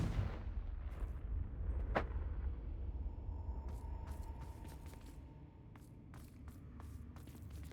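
A Confringo spell cast in Hogwarts Legacy, a single sharp blasting crack early on over a rumbling game background, followed by scattered faint clicks and mechanical ticks.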